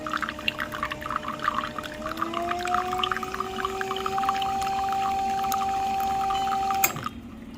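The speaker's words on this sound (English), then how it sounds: "I really love the sound of the gear pump." A steady humming drone of a VBM Domobar Elettronica espresso machine's gear pump, rising slightly in pitch then holding, over soft trickling water, cutting off near the end.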